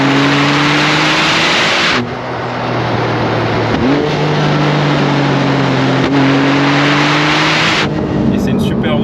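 Porsche GT Street R with 800 hp accelerating hard on a road, a loud, close engine howl climbing through gears with sharp shift breaks, plus a brief voice near the end.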